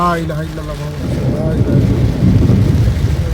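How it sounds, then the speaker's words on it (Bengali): Thunder rumbles low and heavy through steady heavy rain on a Dhaka street, the roll building after a speaking voice at the start, loud and close throughout. "আকাশে প্রচন্ড বজ্রপাত হচ্ছে প্রচন্ড বজ্রপাত"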